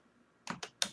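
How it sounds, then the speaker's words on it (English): Three crisp keystrokes on a computer keyboard while typing into a word processor, sharp separate clicks close to the mic in otherwise quiet room tone. "And then we'll go back to Word, which we'll open using an active word. And we'll type Impala"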